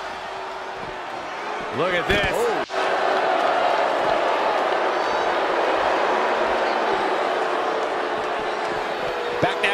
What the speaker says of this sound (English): you don't see Tokyo crowds react like this very often